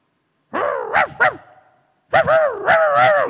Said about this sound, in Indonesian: Rumah lain ada anjing, pasti ikut gonggong.